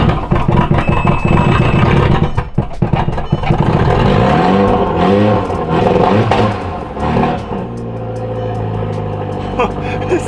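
An Audi TT fires up from cold the morning after new O2 sensors were fitted, then settles into a steady, loud idle with a rough, rumbling tone that carries throughout.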